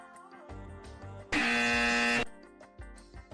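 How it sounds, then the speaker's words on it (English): A loud, flat game-show style incorrect-answer buzzer sounds once for about a second, a harsh sustained tone standing alone between softer musical sounds. "Incorrect buzzer plays."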